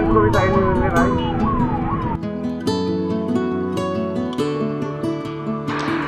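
An ambulance siren wails loudly and close on a busy road in Haridwar during the Sawan Kanwar pilgrimage, first as a rapid rising-falling sweep, then as a steady two-tone cycle, with traffic noise and horns underneath throughout.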